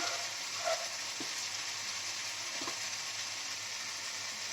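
Onion paste and turmeric fry in a pan with a steady close sizzle and soft hissing crackle, broken by a few faint clinks and taps of stirring.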